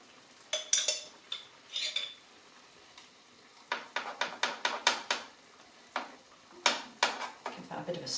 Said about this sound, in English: Just give it a stir with your fork and that will get rid of any lumps.